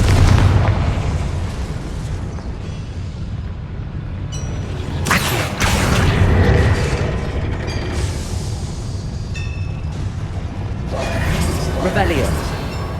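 Blasting curse explosions in the Hogwarts Legacy video game, several loud booms and bursts rising over busy game sound, with a voice speaking at points.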